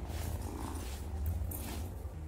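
A cat purrs in the cosy farming game Wylde Flowers, a soft, continuous low rumble with gentle rhythmic pulses, quiet and close.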